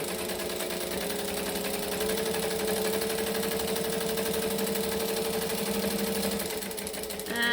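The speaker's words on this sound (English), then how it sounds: "I'm going to jump stitch to the other side." A sewing machine runs continuously and loudly while it stitches a fabric strap for a bangle dangle bag, giving a close, even mechanical hum with a rapid needle rhythm throughout.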